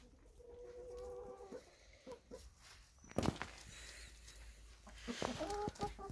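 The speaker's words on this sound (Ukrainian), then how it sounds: "Ось півень" Chickens cluck intermittently at a distance, with a two-year-old rooster nearby, a few scuffling steps and rustling in a quiet outdoor setting with melting snow.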